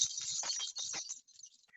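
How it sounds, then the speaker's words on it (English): A bunch of keys jingles close up, bright metallic shaking in quick bursts that thin out into a few faint clinks, with no one speaking. "So I have my keys, which makes this sound."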